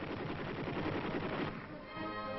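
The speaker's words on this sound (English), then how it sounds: "Comparison firing, 50 caliber machine gun." A .50 caliber machine gun fires in a demonstration, caught on an old, band-limited film soundtrack as a rapid, continuous hammering burst that slackens and thins near the end.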